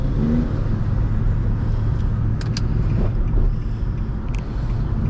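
An Infiniti G37 car accelerating, its engine giving a loud, steady, broad roar with wind rush that holds at a constant level throughout.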